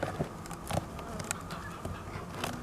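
Steady honeybee buzzing, like a swarm, fills the background with a continuous hum and a few brief louder bursts as the bees react to smoke at the hive.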